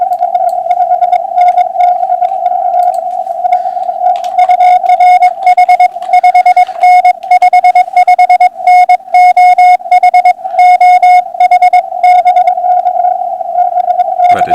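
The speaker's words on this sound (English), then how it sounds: "But the signal is faded completely away." A steady amateur radio tone holds on a single pitch while choppy keyed pulses and static flicker over it, loud and continuous before cutting off at the end.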